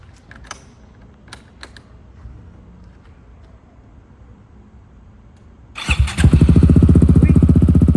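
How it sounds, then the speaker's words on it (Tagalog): A Yamaha XMAX V1 scooter with an aftermarket exhaust pipe fires up after a quiet stretch of a few faint clicks, then holds a loud, close, throbbing idle. "baka pwedeng pa sound check naman ako ng pipe mo."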